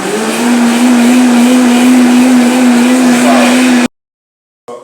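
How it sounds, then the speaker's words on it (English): A kitchen blender runs with washed ginger inside for Jamaican jerk seasoning, a loud steady whirring drone that holds for nearly four seconds, then cuts off abruptly to silence before a faint sound returns. "And turn on the blender."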